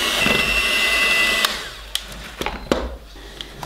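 An electric mixer whisks pie batter in a bowl in a home kitchen, giving a steady, close whirring drone for about a second and a half before cutting off, followed by a few scattered clicks and knocks.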